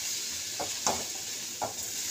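About a cup of sugar fries and melts in a pan for a modak filling, giving a soft, continuous sizzle broken by three brief scraping stirs, close and fairly quiet.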